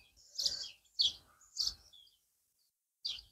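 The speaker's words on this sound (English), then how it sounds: "the birds are all singing" Birds sing in a Welsh garden in four short, bright chirping bursts, the last arriving after a brief pause, fairly close with quiet surroundings and no talking.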